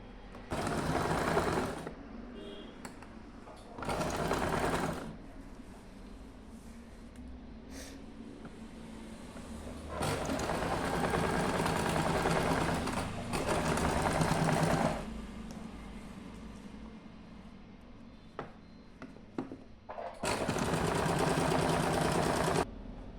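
A sewing machine stitching the folded hem of a party-wear kurti runs in several bursts of steady, close mechanical whirring, separated by quieter pauses with faint handling sounds.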